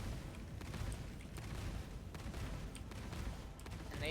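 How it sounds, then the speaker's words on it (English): Ship explosions in the space game Star Citizen, a dense continuous barrage of booming, rumbling blasts with gunfire-like crackle, loud and sustained throughout with no talking. "Oh, there we go. Boom. Big explosions."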